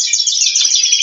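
Birds chirp and tweet continuously at close range in a dense, bright stream of overlapping calls, with no voices.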